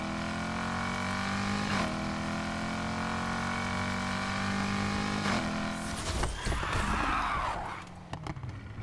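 In the NFS Heat racing game, a car's engine drones loudly at a high, steady pitch, then launches, snaps into second gear with a clunk, and roars and rumbles as it pulls away.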